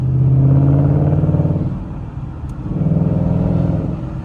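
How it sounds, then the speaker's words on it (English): A 2012 Ford Mustang GT fitted with Roush racing headers, H-pipe and axle-back exhaust, cruising in fourth gear at about 35 mph, gives a steady, loud, deep engine rumble that swells with throttle, dips briefly, then builds again. "just has a nice rumble to it when I give it a little throttle"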